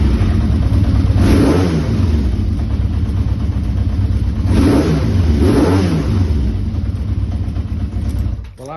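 A motorcycle engine running after a carburettor rebuild with new slides and diaphragms, loud and close, idling steadily and blipped into two rising revs before settling back.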